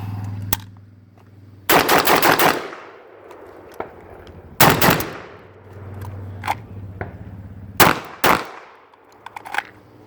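Several loud, sharp rifle shots from a PSA AK-47 GF3 ring out in spaced bursts, each one a hard crack followed by a decaying echo, with quieter clicks and handling noises in between.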